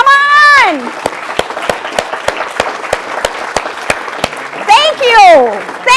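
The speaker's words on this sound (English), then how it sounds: "the biggest round of applause goes to the people who went in either city" An audience at a meeting claps in a steady, evenly spaced rhythm, each clap sharp and distinct, with loud rising and falling vocal whoops at the start and end.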